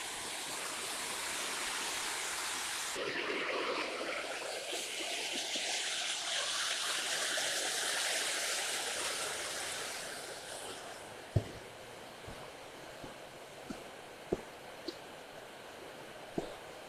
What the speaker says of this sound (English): This must be Linda Creek.